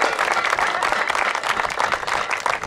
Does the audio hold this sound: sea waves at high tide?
no